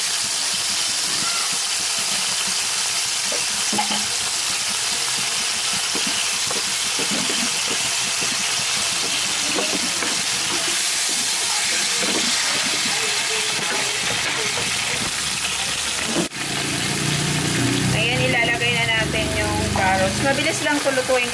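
Canned sardines hitting a hot pan for bihon, a continuous hissing sizzle under light kitchen clatter that swells louder after a sharp knock partway through.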